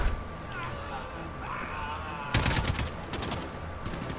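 Gunfire in the video game Call of Duty Modern Warfare, campaign mode, where a sudden loud burst of rapid shots erupts after a quieter stretch and continues in a dense rattling fusillade.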